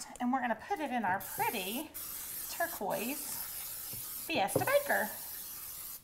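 Baker's Joy baking spray hisses in short bursts into a turquoise Fiesta baking pan, heard close up beneath someone talking steadily.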